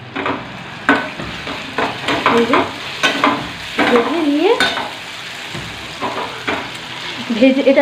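Vegetables and spices sizzle and fry in a pan while a spoon scrapes and stirs them in irregular bursts, close by.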